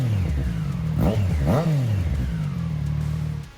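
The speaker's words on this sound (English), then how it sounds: "Something like the Daytona 765 has a very, very identifiable and unique sound." Triumph Daytona 765 triple-cylinder engine revving hard, with two quick throttle blips rising and falling before it settles into a steady, loud idle drone close to the microphone.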